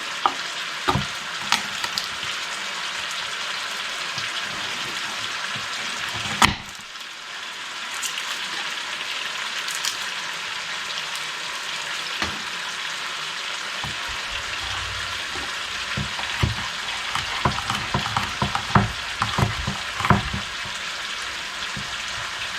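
Wild boar with Hungarian wax peppers and garlic stir-fried in a pan for an Asian dish, sizzling steadily in the foreground with clanks and scrapes of stirring throughout.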